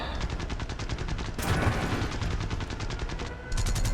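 Rapid bursts of machine-gun fire from aircraft gunners aboard an H6K4 flying boat in War Thunder, steady rattling volleys with a brief louder surge midway, close and continuous.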